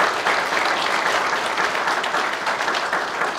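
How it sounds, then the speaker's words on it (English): Steady applause from a crowd, sustained and fairly loud for a few seconds without a break. "Let's give them a round of applause as they sit here."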